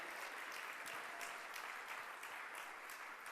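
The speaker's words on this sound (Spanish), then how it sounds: "Si le vas a dar ese aplauso, dáselo con todo tu corazón al Señor" A church congregation claps continuously, a dense, even patter of applause that holds steady without voices standing out.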